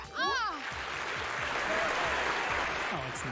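Crowd applause and cheering swell up in the Say No! More video game, a dense, steady roar that fills the whole stretch after a brief voiced sound at the start.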